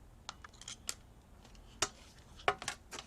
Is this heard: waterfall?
no